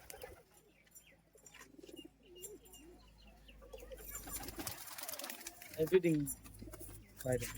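Madrasi pigeons coo in soft, low rolling phrases scattered through the clip, close by, with voices talking over them and a few louder bursts near the end.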